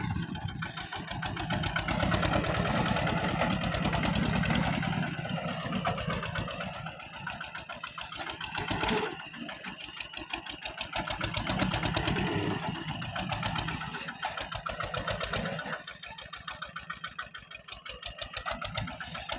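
A modified tractor engine chugs steadily while tilling a field, a loud, close, rapid mechanical pulse that swells and dips slightly as the load changes, with brief interruptions partway through.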